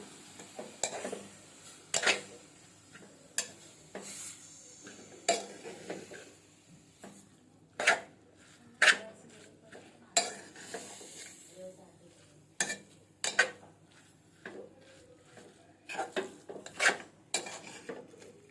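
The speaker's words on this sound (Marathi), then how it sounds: "त्याला चांगलं मिक्स करून घ्यायचं तुपामध्ये।" Grated carrots are stirred in ghee in a pan with repeated scraping and clinking strokes of a spoon against metal at an uneven rhythm, close by over a faint sizzle.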